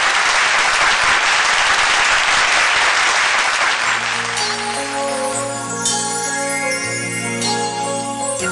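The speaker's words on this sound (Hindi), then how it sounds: "जोरदार तालियां।" A television singing show studio audience breaks into loud, dense applause that fills the first half, then fades under a swelling musical intro with sustained chords and chiming tones.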